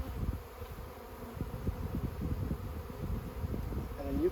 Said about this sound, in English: Busy bees. Already busy.